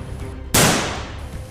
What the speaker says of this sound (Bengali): গুলি করবি আমি, কর গুলি কর।